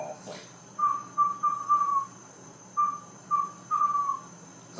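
A person whistles an imitation of a western screech owl call: two runs of short hooting notes, each quickening toward the end like a dropped ping pong ball bouncing, fairly clear over quiet background hiss.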